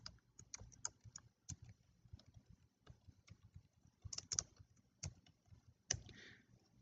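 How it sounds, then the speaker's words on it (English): Fingers tap a computer keyboard in quick, irregular bursts of faint, close keystrokes, with short pauses between words and no talk. "let me type that, distribution costs."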